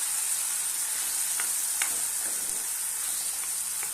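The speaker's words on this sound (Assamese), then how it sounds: "ইয়াতে দি দিম এতিয়া পিটিকা কৰি লোৱা বিলাহী আৰু বেঙেনা।" Mashed tomato and eggplant sizzle steadily in a hot pan, a close, even hiss with a few soft scraping clicks as the mixture is stirred; no one speaks.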